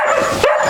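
A dog gives a quick, loud, close-up bark or yip, lasting well under a second.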